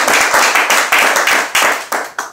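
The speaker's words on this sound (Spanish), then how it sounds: "Dale un aplauso a Cristo." A church congregation claps together in loud, quick bursts that fill the room, with a faint voice underneath.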